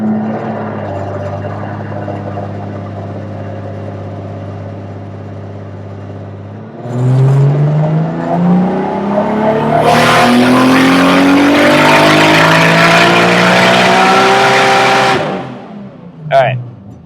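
BMW E46 M3 on a dyno in fifth gear, droning at a steady pitch, then pulling hard with a loud rising rev that peaks and cuts off, followed by a brief blip at the end.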